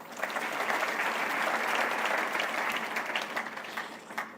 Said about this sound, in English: I want you to clap for Aisha Jomo.